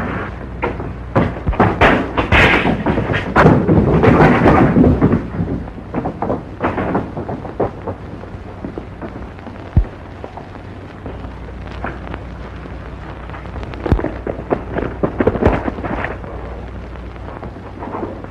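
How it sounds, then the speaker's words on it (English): A loud, rumbling explosion at a town's express office in a 1940 Western film, with crackling debris and thuds, rolling on for several seconds before fading into a lingering low rumble with scattered impacts. "What was that? Sounded like an explosion."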